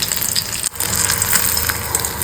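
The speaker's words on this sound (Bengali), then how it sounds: "চলো এটা একটু ভাজা ভাজা হোক ভালো করে ভেতর থেকেও ফ্রাই হোক" Amudi fish chops fry in hot oil, a dense, even sizzle with small bubbling pops close up, briefly interrupted by a short dip before the steady frying resumes.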